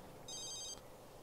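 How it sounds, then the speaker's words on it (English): A single electronic trilling ring from a phone in The Sims 3 sounds for about half a second, then stops, leaving quiet game background. "She's ignoring that phone call."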